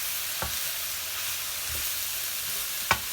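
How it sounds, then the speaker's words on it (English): Greens wilting in a hot frying pan are stirred through, with a faint steady sizzle underneath and a few soft scraping strokes of the utensil spread across the moment. "Give it a little bit of a stir through."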